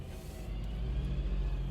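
A car engine holds around 1,500 to 2,000 rpm as it pulls away on a steep hill at a junction. It is a steady, close, low rumble that swells slightly as the car moves off.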